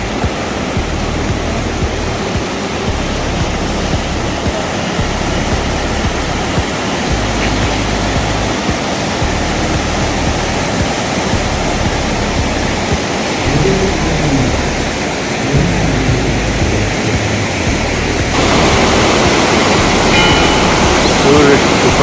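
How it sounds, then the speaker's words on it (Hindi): The fast-flowing Bhagirathi (Ganga) river on a mountain trek rushes in a loud, steady roar of water that runs the whole time, with low rumbles and a voice talking beneath it. "कल कल करती गंगा भागीरथी"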